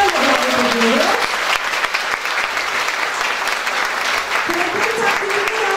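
Loud, sustained clapping from a crowd at a hospital's 25th anniversary ceremony fills the whole stretch, with a voice speaking briefly at the start and again near the end.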